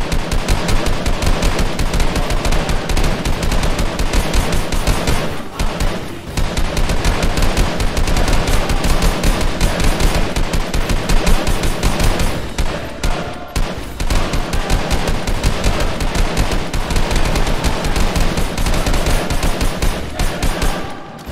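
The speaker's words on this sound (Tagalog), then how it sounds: "Pinaulanan nila ng bala ang buong lipi ng mga aswang na mga yun." Loud, dense sound-effect gunfire, continuous rapid bursts like machine guns firing on a group, sustained for about twenty seconds with only brief dips and no voices.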